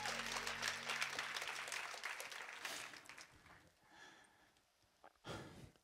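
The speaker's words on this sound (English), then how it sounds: "Clap your hands if you're ready for God's word" A church congregation claps hands before a sermon, the applause strong at first and then tapering off over several seconds, with a breathy sound near the end.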